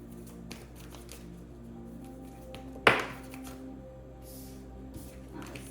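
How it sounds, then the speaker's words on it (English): Quiet room tone with light taps, then one quick, crisp riffle of tarot cards being shuffled during a reading, followed by soft handling sounds. "I'm shuffling the cards"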